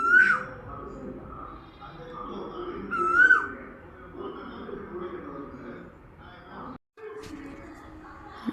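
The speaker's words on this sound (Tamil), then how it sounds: "சவுண்டு கேட்டுச்சா குயில் கூவுறதுன்னா?" Asian koel calling twice from outdoors, rising whistled notes that stand out clearly over a murmur of background voices and household noise.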